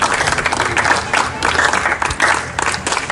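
A short burst of applause: dense, steady clapping from a group of people that lasts about three seconds.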